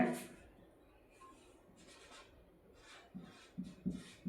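Chalk or marker writing on a board during a biology lesson, faint scratchy strokes coming in short bursts, with a few louder knocks toward the end.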